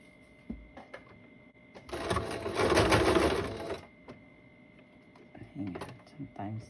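A sewing machine runs a straight stitch in one short burst of steady whirring and clatter, between stretches of quieter handling noises and talking.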